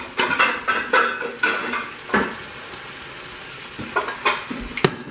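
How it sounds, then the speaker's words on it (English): Steak pieces dropped into a pan of sautéed vegetables for Polish goulash sizzle steadily while a utensil scrapes and stirs in bursts, with occasional metallic clinks against the pan. "Now you put the steak in with the sauteed vegetables"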